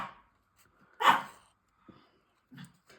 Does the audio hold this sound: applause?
no